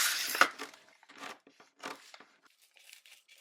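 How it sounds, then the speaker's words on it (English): Scissors cutting through a reusable shopping bag along marked lines, close crinkly snips and rustles of fabric in short irregular bursts with quiet gaps between. "So next I'm going to cut this out on the lines that I've made"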